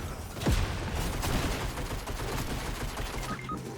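Rapid gunfire from a tactical shotgun in the video game Fortnite, a burst of loud close shots followed by continuous shooting and clatter throughout.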